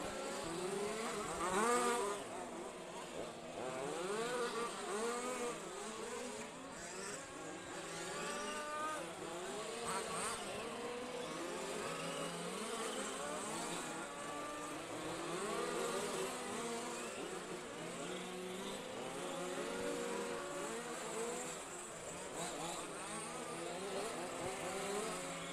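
Off-road RC cars racing in qualification at the EFRA event at Stařeč: a continuous buzzing whine of many small motors rising and falling as they pass, faint and distant throughout.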